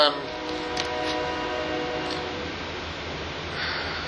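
Train passing nearby with a sustained horn tone and rumbling rail noise that fades gradually over a few seconds.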